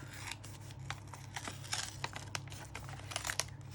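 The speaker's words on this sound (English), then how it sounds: "I'm going to have to rip that off" Paper ripped and peeled off a junk journal page, a run of crinkly tearing bursts and crackles at close range, fairly quiet, with no talking.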